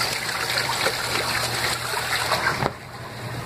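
Washing machine running its wash cycle, water swirling and splashing in the tub in a steady rushing wash that cuts off abruptly near the end.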